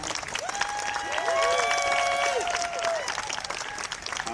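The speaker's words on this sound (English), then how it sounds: "So, round of applause." Applause at a robotics competition awards ceremony, a broad wash of clapping from an audience that swells through the middle, with a voice speaking over it and tonal sounds running across the noise.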